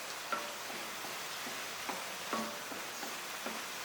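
Onions softening in a hot pan for a Kerala-style dry roast, a steady low sizzle with a few soft ticks and spoon taps, close and fairly quiet, no voices.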